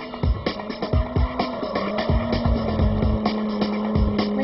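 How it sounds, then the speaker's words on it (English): A drifting car slides with its rear wheels breaking traction, repeated sharp tire squeals and engine bursts pulsing in quick succession, close and loud. "I kick the clutch, offsetting the balance of the car and shocking the transmission, making the rear wheels lose traction"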